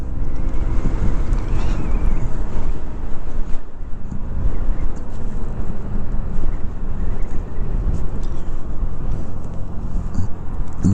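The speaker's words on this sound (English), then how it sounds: "The wind sure is blowing over here, though." Strong wind blows steadily outdoors, buffeting the microphone with a continuous loud low roar and rumble along a road trip from North Carolina to Georgia, with no talking.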